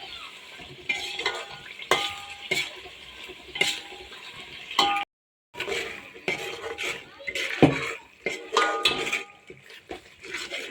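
Goat head meat fries in a pot with a steady sizzle, while a utensil stirs and scrapes against the metal in irregular clanks and pauses.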